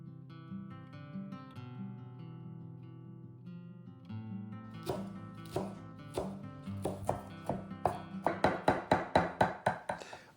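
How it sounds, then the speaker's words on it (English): Knife coarsely chopping fresh mint leaves on a board, starting as sparse taps and building into a quick, steady run of crisp chops over soft background music. "then we will coarsely chop the leaves"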